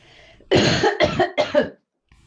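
Three quick, harsh coughs in a row, close and loud, followed by a brief silence.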